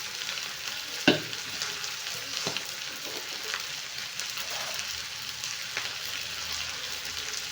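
Cumin seeds sizzle and crackle in hot cooking oil: a bright, continuous frying hiss with one sharp pop near the start as the seeds hit the pan.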